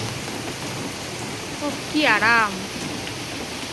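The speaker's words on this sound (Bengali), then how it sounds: "এই দেখো ঝমঝম করে বর্ষার বৃষ্টি শুরু হয়ে গেছে" Heavy monsoon rain pours in a constant broadband rush, with a short spoken phrase rising over it near the middle.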